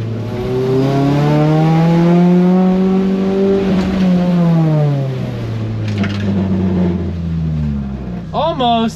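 A modified Honda CRX engine revving up and falling back close by, a loud rising and dropping drone that fades toward the end, followed by a brief burst of higher whine.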